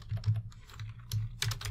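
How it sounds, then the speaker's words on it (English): Rapid clicking of a computer keyboard as someone types during a Unity 3D programming session, a quick irregular run of close, crisp keystrokes heard alone. "Sorry about my typing."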